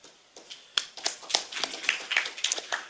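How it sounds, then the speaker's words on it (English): A small audience at a security forum claps for a guest speaker, with scattered, distinct handclaps building into light, uneven applause that stays fairly faint. "Let's give a big applause to General Pan."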